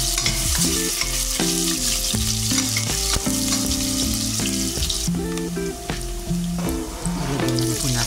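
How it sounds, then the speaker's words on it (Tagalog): Garlic and onion sauté in a pan as the base of a crab meat pasta sauce, giving a steady, close sizzle that runs the whole time beneath loud background music. "sisimulan na po na tayo maggisa ng ating ingredients at sa ating pasta sauce"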